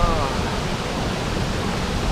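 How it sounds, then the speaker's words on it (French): A waterfall heard from directly beneath it, a loud, unbroken roar of pouring water that fills the whole moment, with a brief voice faintly audible at the start. "En pleine séance de cryothérapie, là, sous la cascade."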